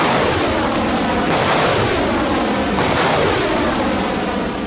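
Artillery fire produces a dense, continuous roar, with two abrupt booming bursts breaking in partway through.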